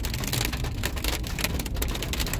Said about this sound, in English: Okay, we're having a hailstorm.